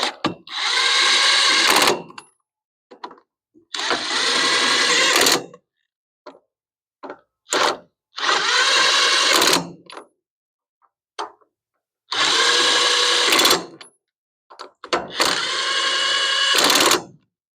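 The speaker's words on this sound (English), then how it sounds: "grab the impact and put them on the rest of the way" An impact wrench tightens lug nuts on a utility trailer wheel in five loud, close bursts of rattling hammering, each about a second or more long, separated by quiet gaps with faint clinks.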